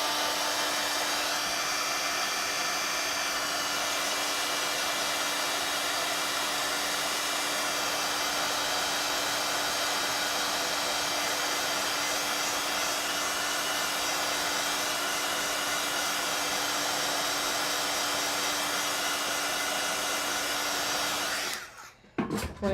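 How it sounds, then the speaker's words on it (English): A hair dryer blows on a watercolor painting, a loud steady whooshing drone held for over twenty seconds before cutting off abruptly near the end, with no talking. "And then I'm going to dry that so that I don't wreck it."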